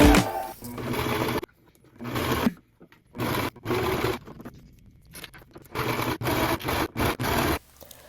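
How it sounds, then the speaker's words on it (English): Sewing machine stitching shirt fabric on the side opposite a fold, turning a shirt into swimwear straps: several loud bursts of fast mechanical stitching separated by short pauses, close up, no talk. "Sew on the opposite side of the fold."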